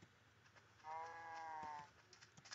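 A cow in the Minecraft video game moos once at a beach, a single drawn-out bleating call lasting about a second, faint and alone amid quiet background ticks.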